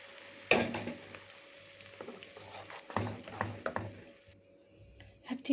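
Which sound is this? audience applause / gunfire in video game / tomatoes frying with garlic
tomatoes frying with garlic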